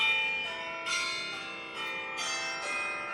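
Bell Tower ringtone from an iPhone on iOS 26: a chiming set of bright tower-bell strikes in a rhythmic peal, several overlapping tolls ringing out loud and close with long sustained tails, no voices.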